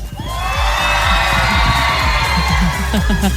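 A crowd of children cheers and shouts loudly at an outdoor Santa's Wonderland radio broadcast, a sustained burst of high whoops and yells with scattered bangs, starting abruptly and staying strong to the end.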